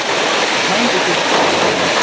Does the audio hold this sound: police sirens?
no